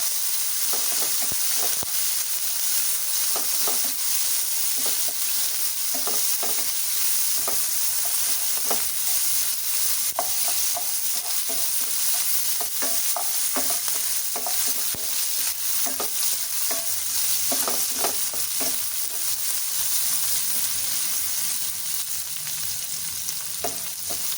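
Capsicum sizzles loudly in a hot pan while being stirred, a continuous close frying hiss broken by frequent scraping clicks of the spatula, with no voices.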